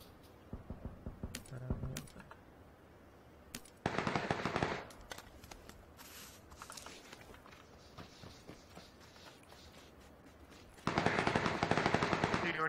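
Bursts of automatic gunfire in PUBG, with a loud sustained burst near the start, another near the end, and scattered fainter shots between, under intermittent talk.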